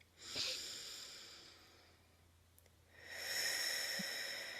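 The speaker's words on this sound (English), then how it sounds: "taking a cleansing breath with me, breathing in through the nose" A slow, airy breath drawn in through the nose during a breathing exercise, soft and close, followed by a second hissing inhale.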